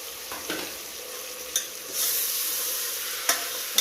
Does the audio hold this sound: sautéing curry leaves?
yes